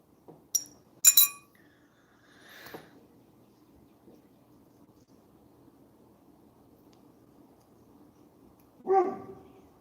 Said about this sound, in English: It's my dog just letting people know she's here.